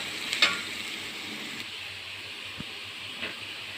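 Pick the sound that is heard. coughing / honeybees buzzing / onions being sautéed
onions being sautéed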